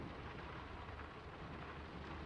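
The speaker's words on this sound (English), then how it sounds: "It's getting late, and the rain's not abating. It's really coming down." Heavy rain falls steadily in the village of Draugen, a video game, a dense, even wash of downpour that stays close and constant throughout, with no voices.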